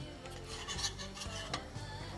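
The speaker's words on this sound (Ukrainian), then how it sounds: "ми зараз переходимо до обжарки спеції. Е, ми будемо до цього використовувати топлене масло." A heaped spoonful of ghee with spices frying in a pan for palak paneer, giving a steady soft sizzle and rasp with small scraping and stirring clicks, close and fairly quiet, with no talk.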